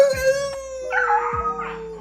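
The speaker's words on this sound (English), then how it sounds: "Wolves are wild animals." A pet wolf lets out a sustained howl close by, with yips and whining breaking over it partway through.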